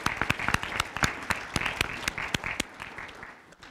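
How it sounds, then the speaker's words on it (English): Audience applause at a county library Veterans Day commemoration, a modest round of sharp, distinct claps from a smaller crowd, lively at first and fading out over a few seconds. "Let's give a round of applause to Bob Cunningham from Hamilton County Sheriff's Pipes and Drums."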